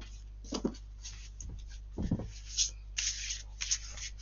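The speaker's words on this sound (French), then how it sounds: "J'étais en train de battre mes cartes" Tarot-style cards being shuffled for a card reading, with soft riffling and slapping bursts that come in short clusters against a steady low hum, close and fairly quiet.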